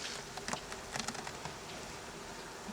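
Bees swarming around a hive make a faint, steady buzzing drone with scattered small ticks and rustles, far off and without speech.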